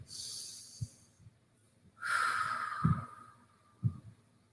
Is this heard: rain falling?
no